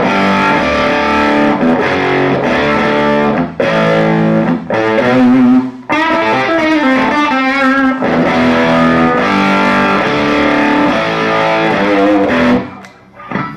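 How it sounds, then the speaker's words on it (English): Stratocaster electric guitar played through a Throbak Stonebender overdrive distortion pedal, loud sustained distorted chords and riffs ringing continuously, with a short break midway and a fade at the end. "this is basically what they consider their overdrive distortion sound."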